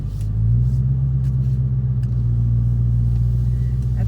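Steady low rumble from a Dodge Hellcat engine idling with an exhaust leak on the left side where the nuts backed out, heard close and continuous with no talk.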